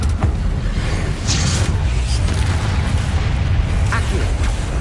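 A Confringo fire spell from Hogwarts Legacy on PS5 bursts in loud, dense booming blasts, with short crackling pops layered over a constant rumbling game soundscape.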